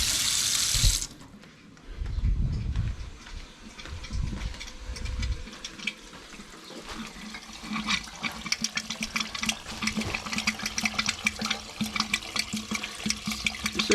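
Water rushing through a blocked drain under pressure, opening with a brief loud hiss and then a churning gurgle and splashing flow that grows steadier and louder over the remaining seconds.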